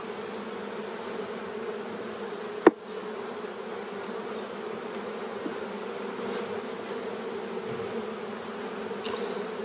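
Young honeybees buzz at a hive during swarm production from miniplus boxes, a steady close drone of many wings with one sharp knock partway through.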